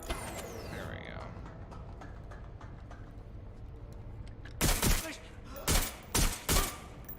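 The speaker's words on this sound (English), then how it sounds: "We got shots fired!" Gunfire in the Watch Dogs Legion video game comes after a quieter stretch of background game noise: several sharp, loud bursts of rapid shots in quick succession.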